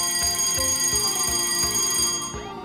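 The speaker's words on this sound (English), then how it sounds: "Can you hear the bell?" A fire station bell rings rapidly and repeatedly, a steady metallic clanging that continues without pause before fading slightly at the end.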